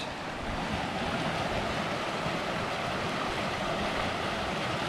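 A wilderness creek in the Kananaskis backcountry rushes steadily, a loud, dense and unbroken wash of flowing water with no pauses and no voices.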